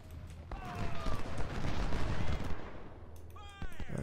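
Artillery and musket fire crackle in the Civil War strategy game Ultimate General, a dense continuous rattle of volleys with sharp whistling tones and distant booms layered throughout.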